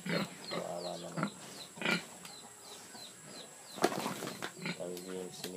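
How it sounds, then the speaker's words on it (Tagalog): Pigs on a pig farm in Bulacan, with several short grunts and squeals scattered over a steady background hum and rustle, close to moderately near and fairly faint, with a voice briefly heard in the mix. "Bye-bye sa inyong mga baboy."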